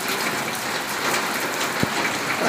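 Heavy morning rain pours steadily in Hyderabad, a dense, continuous hiss of rainfall close by with one soft thump partway through and no voices.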